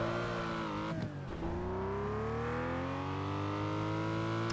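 A car engine revving in Test Drive Unlimited 2, a steady loud drone with harmonics that dip around one second and then climb steadily as the engine pitch rises, with no talking.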